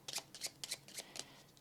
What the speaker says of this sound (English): Let's take their cards and shuffle, oop, 1 more, and shuffle them up.